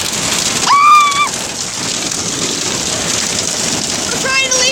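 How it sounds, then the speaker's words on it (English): Hail from a supercell hailstorm pummels surfaces in a steady, dense, loud roar of impacts, with a few brief high tonal sounds cutting through near the start and end. "Everyone's getting pummeled by hail. This gigantic hailstorm."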